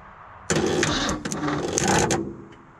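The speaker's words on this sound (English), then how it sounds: "let's try and crank it again" An old Ford bumpside pickup on a cold start cranks loudly and close by, its starter grinding in a continuous rough churn for about two seconds before cutting off, with no speech over it.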